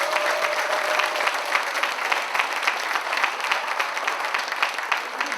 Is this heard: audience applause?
yes